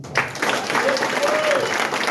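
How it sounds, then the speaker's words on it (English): Audience applause for teen police academy graduates at a Boston Police graduation ceremony, a brief burst of clapping from a crowd that starts abruptly and carries on steadily, with a voice faintly audible underneath. "So, class, give yourselves a round of"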